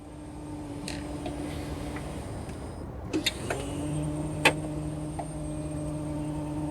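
Electric seat motors in a Tesla Model X Plaid, a steady low motor hum that stops and restarts with a few clicks partway through, heard close inside the quiet cabin without talking.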